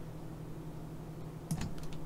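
A few quick computer keyboard key presses, Shift among them, click softly near the end during a Maya 3D modelling session, over a steady low electrical hum.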